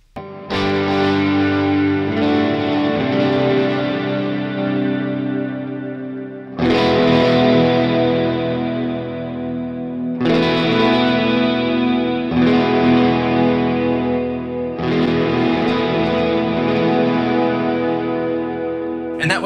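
Electric guitar through a Line 6 POD Go with a 3 dB solo volume boost, loud, with big ringing chords struck about five times and left to sustain and decay under chorus and echo effects, no talking.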